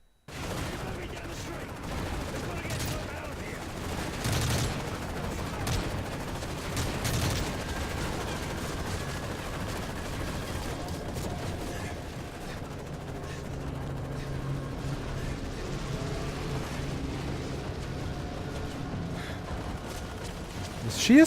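Scattered gunfire and bursts in Modern Warfare 3 singleplayer combat, a steady busy battle din lasting throughout, with a voice talking over it at times.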